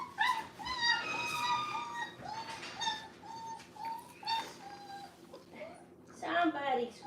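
Puppies whine in a run of short, high, wavering cries, several close together and then a louder cluster near the end, with a steady background hum beneath.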